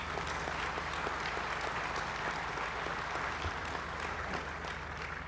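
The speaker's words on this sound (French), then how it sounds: "Je voudrais qu'ensemble on applaudisse tous nos invités" A forum audience applauds its guests from some thirty countries with sustained, dense clapping from a large crowd that holds steady throughout, moderately distant and without any voices over it.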